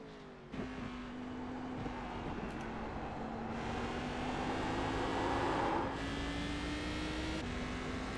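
A race car engine in the iRacing sim drones steadily in cockpit view, its pitch climbing and dropping through gear changes across the stretch with no voices over it.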